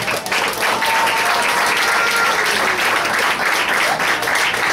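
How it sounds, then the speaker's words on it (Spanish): A congregation at a church retreat applauds the Lord, producing dense, steady clapping at a strong level throughout, with faint music or voices blended beneath. "denle un aplauso al Señor"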